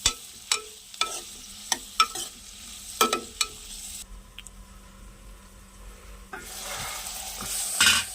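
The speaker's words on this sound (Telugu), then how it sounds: "వంకాయ ముక్కలు ఫ్రై అవుతున్నాయి కదండి" Brinjal pieces fry in a pan with a steady sizzle, broken by sharp stirring scrapes and clicks in the first half, then a quieter, softer sizzle before the frying swells louder again near the end.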